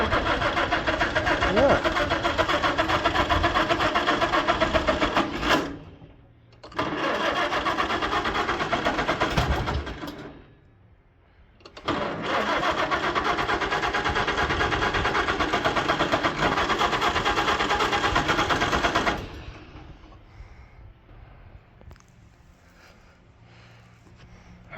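A Farmall A tractor engine cranks over after its starter was freed from a seized Bendix. It gives long, loud, continuous bursts broken by two short pauses, then falls to a much quieter sound, with a voice speaking briefly.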